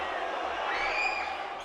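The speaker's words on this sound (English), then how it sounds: "Make a free throw, get the crowd into it." A home crowd at a boys varsity high school basketball game between Gunn and Palo Alto swells into cheering and shouts after a made free throw, a bright, building roar lasting about a second and a half.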